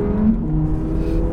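A 620-hp Audi R8 V10 performance engine hums steadily from inside the cabin, a smooth, moderately loud low drone with a slight swell, heard alone without talk.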